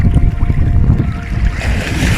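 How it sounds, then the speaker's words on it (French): Ocean waves wash ashore at Coney Island beach in New York, a loud continuous rush of surf mixed with heavy wind buffeting the microphone. "Entendez le bruit des vagues."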